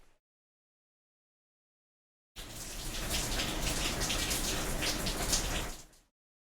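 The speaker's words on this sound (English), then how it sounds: "it's raining crazy outside. Do you guys want to hear it?" Heavy rain pours steadily with dense patter and hiss for about four seconds after silence, loud and close, then cuts off.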